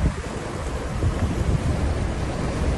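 A thunderstorm with rain and wind on a roadway, a dense continuous roar of heavy rain and gusting wind with low rumbling underneath, loud and steady throughout.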